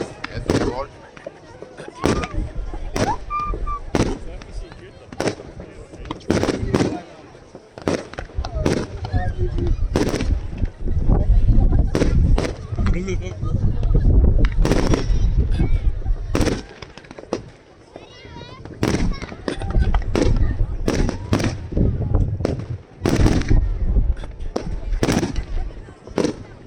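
Fireworks display at Vestlia Resort, Norway, with many loud bursts and crackling booms firing in rapid succession, some overlapping, with voices talking faintly in between.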